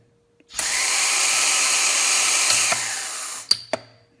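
Lampert Puk 3 pulse arc argon micro welder. A steady loud hiss of gas flow lasts about three seconds, and two short sharp cracks of the discharge follow near the end.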